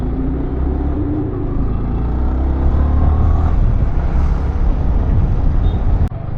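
Heavy road traffic in a jam, heard close by as a continuous low rumble of idling and creeping engines, with a brief sharp click near the end.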